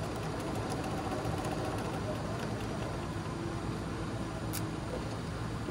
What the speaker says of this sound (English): make sure I don't sew over my pins.